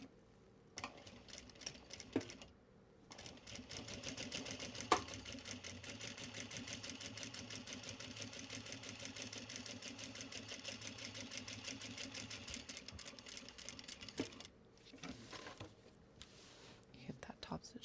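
Sewing machine running a long, continuous top stitch line on obi fabric being upcycled into totes, a steady mechanical whir for about ten seconds, with quiet handling sounds and brief pauses around it.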